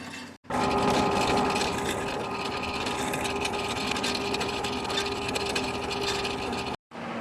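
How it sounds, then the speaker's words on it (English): A small countersink drill bit whirs and grinds continuously for several seconds, cleaning up rivet holes on traction engine rear wheel parts, with short silent gaps at the start and end. "I've just just installed the countersink drill bit now"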